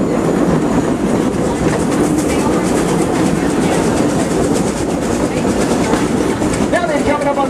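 A Frisco Silver Dollar Line tourist train rolls steadily along the rails through woods, a loud continuous rumble with rhythmic clickety-clack of the wheels, while a voice talks over it.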